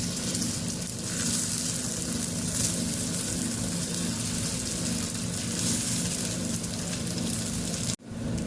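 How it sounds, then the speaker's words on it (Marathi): Rice tikki fry in a small amount of hot oil in a pan, giving a steady, dense sizzle that holds evenly for several seconds before cutting off abruptly near the end. "चला तर मग टिक्की तळून घेऊया"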